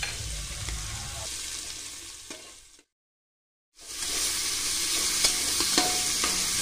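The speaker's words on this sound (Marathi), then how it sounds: "मिनिटभरासाठी हेही परतून घेऊया।" Lima beans (pavta) sautéing in oil with turmeric for masale bhat, a close, steady sizzle with stirring scrapes, breaking into about a second of silence before the frying resumes louder.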